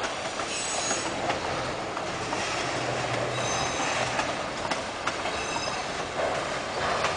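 Train running on the rails through Jaraguá do Sul in Santa Catarina, Brazil, a steady loud rumble with wheel squeal and faint clickety-clack throughout, no voices.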